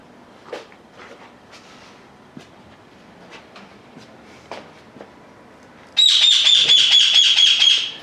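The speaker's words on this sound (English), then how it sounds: "We've got our little chirping bird next door." A small bird chirps outdoors in short, faint, scattered notes over quiet background, before a loud steady hissing noise takes over for the final seconds.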